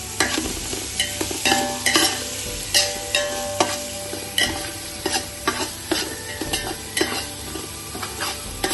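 Mint leaves are sautéed in a pan for mutton biryani, with a spoon scraping and stirring in a regular rhythm over a continuous frying sizzle, close and clear, without any talk.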